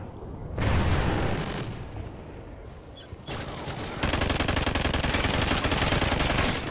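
Light machine gun fire in Call of Duty: Ghosts, loud sustained bursts of rapid automatic shots, a pause, then a longer unbroken stream of gunfire up close.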